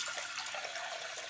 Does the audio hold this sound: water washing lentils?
yes